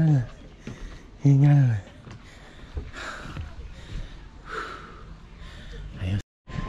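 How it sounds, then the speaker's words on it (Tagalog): Breathy gasps and huffs from a person out of breath while walking through a tropical forest park at Yalong Bay, Sanya, Hainan, come in uneven close bursts with short voiced sounds and brief pauses. "Hingal."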